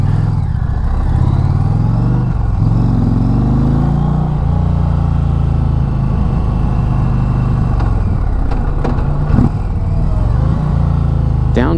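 A 2023 Indian Pursuit Dark Horse Icon motorcycle engine downshifting while riding, loud close engine note stepping down through revs with engine braking, a throaty steady drone with brief shifts and wind rush.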